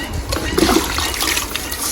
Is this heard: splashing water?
yes